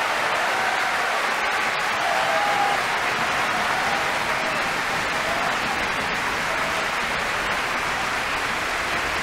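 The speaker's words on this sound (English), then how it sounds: "Thunderous applause here for her" Thunderous opera-house applause for a soprano singing Amina in Bellini's La Sonnambula, a continuous roar of many hands clapping that holds at full strength for nine seconds.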